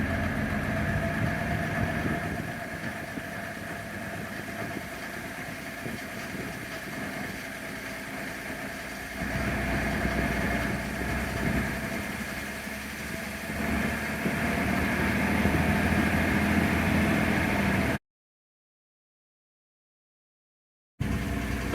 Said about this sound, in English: I guess I can just give it a little bit of gas here